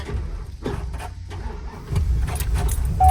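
A 2003 Chevrolet Silverado 3500 cranks and catches after a jump start from a dead battery, with a brief rattle of keys, then the engine settles into a steady close idle.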